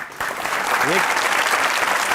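A studio audience at a comedy show breaks into steady clapping that swells after a brief pause and holds dense and close, with a voice calling out briefly over it.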